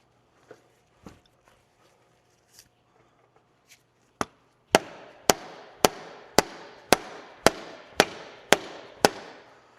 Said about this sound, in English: Keep hitting it.